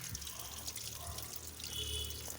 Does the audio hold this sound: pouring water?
yes